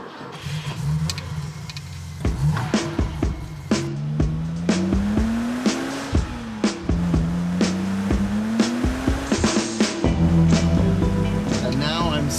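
A classic BMW 3.0 CSL, the E9 Batmobile, driving with its engine revving up and down through repeated rising pitch sweeps and gear changes, loud and close from inside the car, with a voice talking over it.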